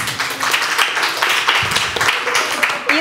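Studio audience at a Russian-language quiz show applauding a team, dense, fairly loud clapping from many people throughout, with some voices mixed in underneath.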